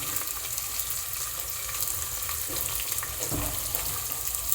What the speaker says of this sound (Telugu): అన్నీ మంచిగా నూనెలో ఎర్రగా కావాలి